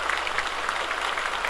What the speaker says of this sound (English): Again, back to the Speaker's rostrum after this applause